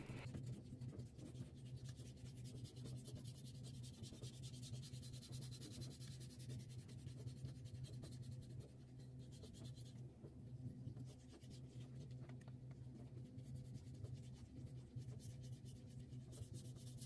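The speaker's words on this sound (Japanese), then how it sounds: "最後に12000番の砥石で仕上げます。" A CPM-MagnaCut kitchen knife blade is finished on a #12000 whetstone, producing faint, continuous rubbing and scraping strokes up close with no voices.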